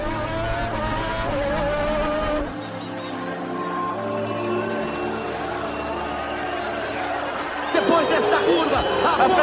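Ayrton Senna's Formula 1 car at the Brazilian Grand Prix, stuck in sixth gear, drones loudly with engine whine and race-track noise while a commentator's voice speaks over it throughout.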